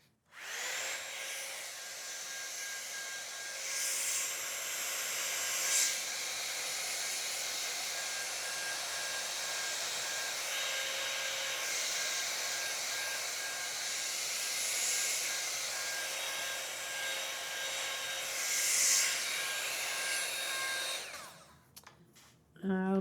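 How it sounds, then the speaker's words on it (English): A hair dryer blows steadily on a watercolor sunflower painting, a loud continuous whirring roar that holds for about twenty seconds and then cuts off, with small handling noises at the end. "I'm gonna just go over it again with the blow dryer"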